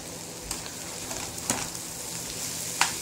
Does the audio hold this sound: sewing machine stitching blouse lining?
no